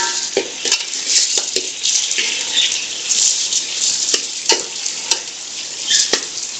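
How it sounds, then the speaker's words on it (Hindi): Garlic and ginger sizzle hard in hot oil with meat for a dahi gosht curry. The frying hiss is loud and steady, broken by sharp spoon scrapes and knocks against the pot. "इसको भी डाल के हम भून लेंगे"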